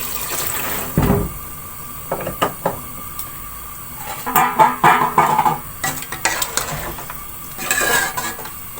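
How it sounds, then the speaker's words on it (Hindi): Two glasses of water go into a cooking pot while making aloo chicken, with clanks of pots, utensils and stirring coming through in bursts at close range and no voices. "अब इसमें मैं 2 गिलास पानी के शामिल कर दूंगी"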